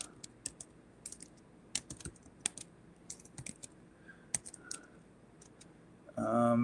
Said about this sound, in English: And Pete, could you type in there how people can get a hold of you in that chat area?